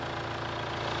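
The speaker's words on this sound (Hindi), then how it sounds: "4 सिलेंडर इंजन है जो कि BS6 टेक्नोलॉजी के साथ में आएगा और इंजन की आवाज़ भी काफ़ी स्मूथ है" The four-cylinder BS6 engine of a 2021 Mahindra XUV 700 idles with a steady, smooth low rumble and even pulsing, heard close up under the open hood with no voices.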